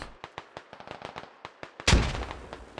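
A frag grenade goes off in a military shooter video game, with a booming blast that follows a string of rapid gunfire pops.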